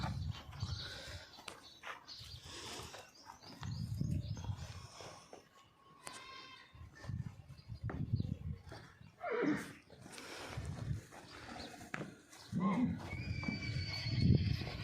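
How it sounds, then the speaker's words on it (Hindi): Sindhi breed horses neigh and whinny several times among snorts and movement, with someone talking intermittently nearby. "काफ़ी खूबसूरत सिंधी घोड़ा"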